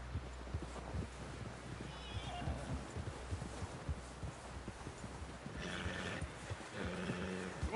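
Horse hooves clip-clop at a steady walking pace over a constant low rumble, with shouting voices and a horse's whinny rising near the end amid a busy crowd.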